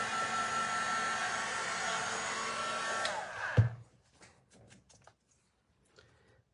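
A hair dryer blows steadily on a layer of paint, a loud continuous whoosh that shuts off abruptly, leaving a few faint clicks and rustles.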